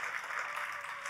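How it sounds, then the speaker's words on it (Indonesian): A church congregation claps in praise during a worship service, a brief steady wash of applause heard from a distance at low volume, with no talking. "Tepuk tangannya boleh yang paling meriah buat Yesus Tuhan kita"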